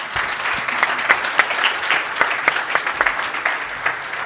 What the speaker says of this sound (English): A huge round of applause for my colleagues.